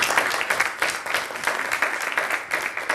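A library audience gives a round of clapping for two presenters at a Black history commemoration, a steady, moderately loud patter of many hands throughout.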